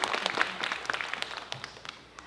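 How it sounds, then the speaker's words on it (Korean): Audience applause at a disability arts competition's dance final, scattered, fairly quiet clapping that thins out over about two seconds with no voices over it. "다시 한번 뜨거운 박수, 감사의 박수 부탁드립니다."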